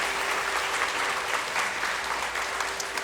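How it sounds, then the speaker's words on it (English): An audience at a cultural celebration honouring a chief guest claps steadily, a dense even round of applause throughout with no talking. "Please give him a big round of applause."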